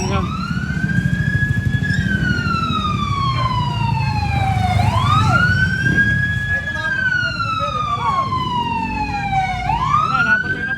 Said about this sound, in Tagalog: ito na yung bumbero natin